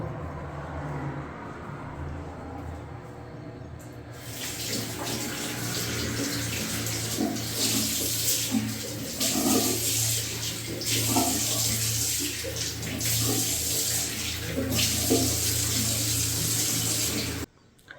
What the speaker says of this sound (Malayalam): രാവിലെ എഴുന്നേൽക്കുമ്പോൾ ഫേസ് വാഷ് ചെയ്യണം